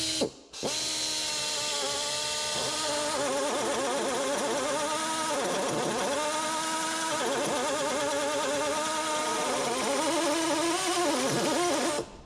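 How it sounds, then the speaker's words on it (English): An electric drill whines steadily up close, its pitch dipping and rising repeatedly as the bit bites into a metal spot weld, ending abruptly. "So I'll just put a little divot in there with the drill and then drill it."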